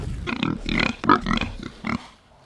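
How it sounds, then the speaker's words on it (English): Several Kune Kune pigs grunt and snort in quick succession, loud and close, with short pauses between the grunts. "pigs, I hear you. They've been loud."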